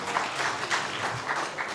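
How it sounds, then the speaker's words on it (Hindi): Audience applause at a coaching institute event in Patna, a steady wash of many hands clapping throughout, fairly loud and continuous with no speech over it. "जोरदार तालियां।"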